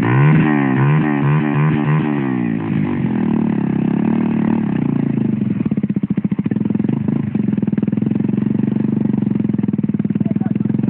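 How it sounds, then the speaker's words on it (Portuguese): A motorcycle engine runs close by, rising and falling in pitch as it revs at first, then settling into a rough, clattering idle for the rest, loud and continuous. "Monta, moço, na moto!"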